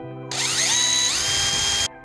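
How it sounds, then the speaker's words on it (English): A power drill with a bit smaller than the screw bores into cured resin for a European skull mount, a high whining buzz with rising tones that starts abruptly and cuts off cleanly after about a second and a half. "we're gonna take our drill bit that's smaller than our screw, and we're gonna drill down into these."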